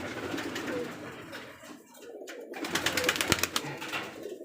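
Hannan pigeons at a pigeon farm coo softly in low, rolling calls, with bursts of wing flutter and farm noise rising in the second half.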